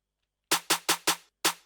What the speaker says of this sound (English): so I introduced this snare.